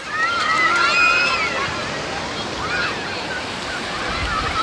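Sea waves wash onto Bakkhali beach in a steady, broad surf rush, with crowd voices and children's calls over it and wind across the microphone.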